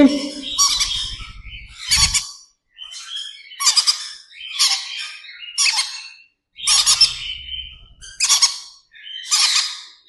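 Green-cheek yellow-sided conure chicks squawking in loud, harsh bursts, about eight calls with short pauses between, close by.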